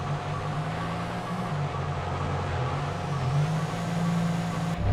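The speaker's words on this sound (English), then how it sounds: "There is a report of a speeding Porsche 911 on the bridge" A Porsche 911 engine roars steadily in a police-chase video game, a continuous mid-pitched drone that swells slightly toward the end with no pauses.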